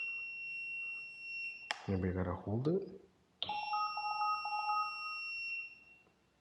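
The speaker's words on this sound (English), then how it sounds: "What's the fire alarm thing that's going off?" A fire alarm sounds a high, steady electronic tone near a building's main entrance. A person briefly talks over it, and the tone then returns alongside a second, lower repeating beep before fading out.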